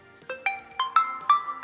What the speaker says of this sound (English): That's my phone ringing in the background because it's helping me find my phone.